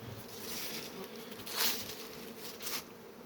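Honeybees hum at an apiary on a warm autumn day, a steady mid-level buzzing swarm close by with individual bees swelling louder as they fly past, no voices.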